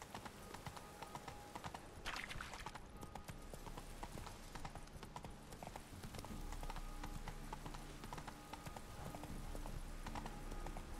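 Roach the horse clip-clops through a city street in The Witcher 3, with quiet, steady hoofbeats continuing alone against faint background ambience.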